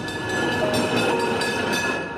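A tram rolling through Vinnytsia, Ukraine, in the morning, a steady broadband rumble of wheels on rails with a faint high whine, continuous and fairly close, with no voices.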